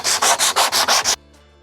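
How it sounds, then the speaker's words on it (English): Rhythmic sanding of a wooden piece for a campervan build, seven loud even strokes close by, then a sudden stop into near silence. "I'm sanding this so we get some nice straight edges so it looks nice when it's on there."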